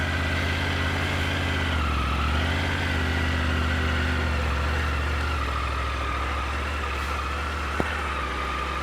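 A motorcycle engine idles steadily and close at a low, even rumble, with one sharp click near the end and no talking.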